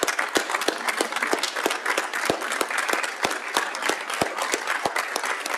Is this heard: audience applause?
yes